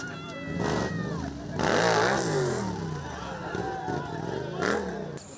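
Motorcycle engines rev and whine at a professional stunt show, pitch sweeping up and down as the bikes accelerate and brake, with a faint hum of spectators in the background.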